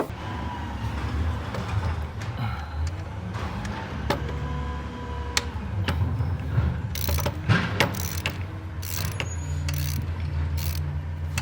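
Ratchet work on the EGR valve screws of a 2012-2016 Mercedes-Benz GL 350 with the OM642 diesel, mechanical clicks and metallic ticks scattered through a steady low workshop hum, close and moderate in level.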